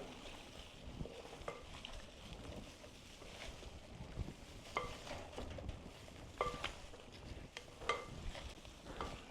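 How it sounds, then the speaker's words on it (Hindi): Fruit chaat with pomegranate seeds being stirred and tossed in a bowl, giving a steady soft wet mixing rustle with occasional light clinks of a spoon against the bowl, close and fairly quiet with no talking. "अब आप इसको अच्छे से मिक्स कर लें।"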